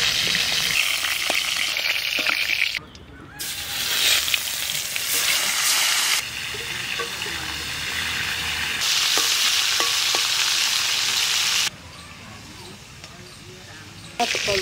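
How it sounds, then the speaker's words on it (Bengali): Stingray fish frying in hot oil crackles and sizzles loudly, with bursts of bubbling that cut in and out abruptly while voices talk over it. "মাছটা ভাজা হয়ে গেছে,"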